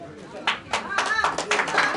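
Crowd in an auditorium at a first-anniversary karaoke program claps in uneven bursts, the hand claps building and overlapping for about two seconds beneath ongoing speech.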